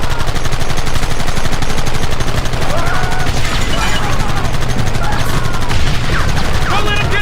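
Bursts of gunfire in the Western video game Red Dead Redemption, with dense rapid shots and volleys throughout a loud battle, as shouting voices cut through now and then.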